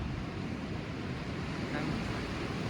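Ocean surf rushes continuously with a broad roar, mixed with wind buffeting the microphone and no distinct breaks between waves.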